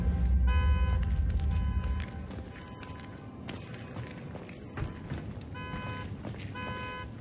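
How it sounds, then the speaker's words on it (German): A repeating electronic car alarm in the video game Daymare: 1998 whoops and beeps in regular bursts over background game noise and footsteps, fairly loud throughout. "Dumme Alarmanlage hier."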